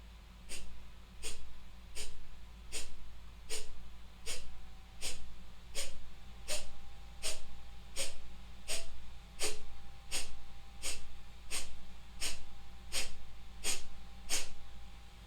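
Kapalabhati breathing through the right nostril: about twenty short, forceful exhalations pump out in an even, quick rhythm, each one a sharp, close, nasal puff.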